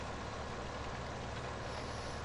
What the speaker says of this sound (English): You're driving a tractor, for God's sake.